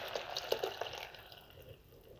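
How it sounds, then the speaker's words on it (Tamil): Rinse water from a mixer jar poured into a pan of turnip curry, a few quiet splashes and drips at close range that fade out quickly. "மிக்ஸி ஜார் கழுவி தண்ணியும் இது கூடயே சேர்த்துக்கலாங்க."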